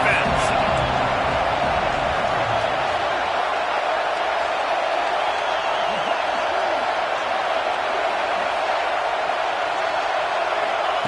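Football stadium crowd roaring in support of the defense on a big third down at a Tennessee game, a steady dense wall of cheering throughout with some nearby voices.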